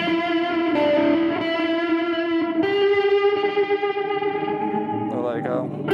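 Electric guitar plays a sustained reggae solo through delay and distortion, with long ringing held notes and a wavering bend near the end, loud and close with no talking.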